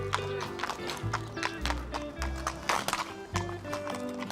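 Hooves of Ranou, a horse being readied before an event in a village in La Vienne, shift and clop unevenly nearby, with a few snorting breaths, some background talk and a faint tonal hum.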